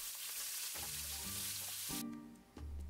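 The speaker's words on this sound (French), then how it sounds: "J'ajoute une cuillère à soupe d'huile de tournesol pour la cuisson de l'autre moitié des brochettes." Beef lemongrass skewers fry in sunflower oil with a loud, steady, close sizzle, joined by a few dull knocks and clatters from the pan, with no talking.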